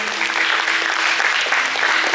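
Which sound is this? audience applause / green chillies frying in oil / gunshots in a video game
audience applause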